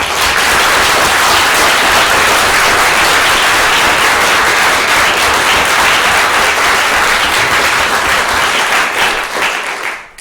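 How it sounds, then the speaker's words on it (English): A large crowd at a mock trial championship claps for the judges in loud, sustained applause that carries on steadily before quickly tapering off at the end. "Let's give a round of applause to our judges."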